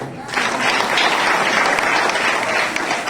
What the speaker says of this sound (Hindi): इतना काम कर रहे हैं तो ताली भी नहीं बजाओगे का?